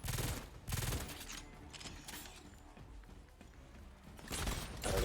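Burst rifle fire in the video game Exoprimal, with loud rapid bursts at the start and again near the end, separated by quieter mechanical clanks and game noise.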